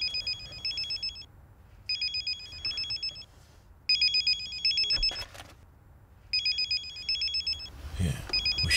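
A company telephone ringing in a domestic drama scene: repeated electronic ringtone bursts in an even on-off rhythm, fairly close and clear, with a brief rustle and a faint low background between the rings.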